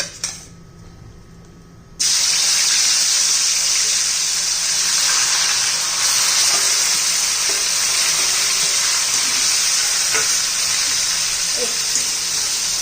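Chicken pieces dropped into hot oil set off a loud, steady sizzle that bursts in suddenly after a quiet moment and holds at full strength close by, with faint occasional clicks beneath.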